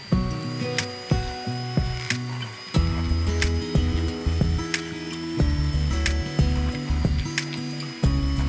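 An electric mixer on low speed beating powdered sugar with butter for nastar pastry dough, a close, loud mechanical whir with rhythmic tonal pulses and periodic sharp clicks, no voices.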